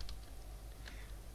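Computer keyboard typing in a quiet room during a database query setup, with a few soft, scattered key clicks over a low background hum and no voices.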